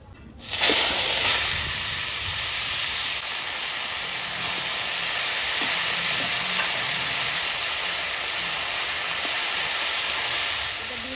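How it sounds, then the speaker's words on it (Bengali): Chopped banana flower is tipped into hot oil already tempered with cumin seeds and bay leaf, setting off a sudden, loud, sustained sizzle that hisses steadily and closely throughout. "তেল দিয়ে দেবো জিরে ফোড়নে দেবো জিরে আর তেজপাতা এবার মোচাটা ঢেলে দেবো"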